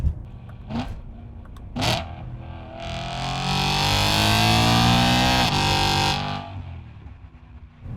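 A BMW M3 with a dual-clutch gearbox revs hard, two quick blips and then a long loud accelerating pull climbing in pitch before an abrupt shift and fade, heard close from the cabin.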